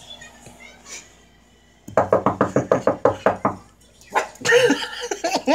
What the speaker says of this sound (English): I'm gonna knock on this door.